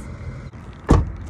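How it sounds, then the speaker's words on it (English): A car door being opened, with a single sharp mechanical clunk near the end over a low engine-like hum inside the vehicle. "as soon as I opened the door, his head started moving forward as if he was going to jump out"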